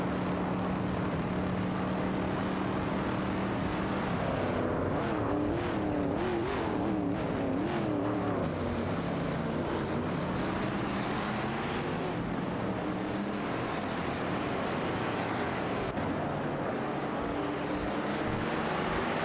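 AI-driven race cars, including Chevrolet Impala SS67s and a Holden Tirana NNX, roar around a video game track in a crowded pack, with a steady loud engine drone and wavering pitch as cars pass, with no talk.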